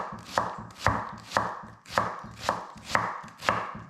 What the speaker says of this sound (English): you go around the radius of the onion, making those cuts